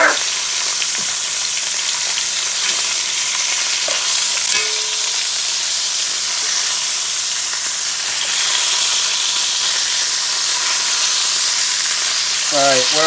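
Short ribs sear in a pan on a vintage glass-top electric stove for a braise, giving a steady, loud sizzle with soft stirring and scraping and a brief clink near the end.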